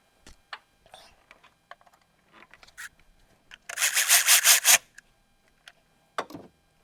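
Hacksaw-like cutting on fuel pipes during a 7.3L Powerstroke diesel fuel system upgrade: scattered scrapes and clicks, then a dense burst of rapid rasping strokes for about a second, followed by a few more sharp ticks.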